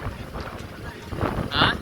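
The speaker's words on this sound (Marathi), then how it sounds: "हवा बघ काय सुटली आहे." Strong wind at Guhagar beach on the Konkan coast buffets the microphone in a steady rumbling roar, with brief faint voices and a louder gust near the end.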